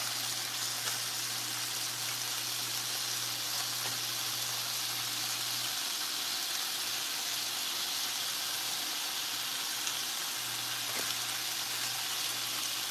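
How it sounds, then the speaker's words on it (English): Halved bacon strips frying in a pan with a steady, even sizzle and faint crackle, continuous and unbroken, with a low hum in the background for part of the time. "we're gonna just cook our bacon"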